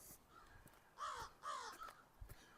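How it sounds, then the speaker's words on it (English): Crows caw a few times at a moderate distance, harsh calls rising over a soft outdoor hiss with no voices, during a spring walk in Regina. "Complete with crows cawing at me."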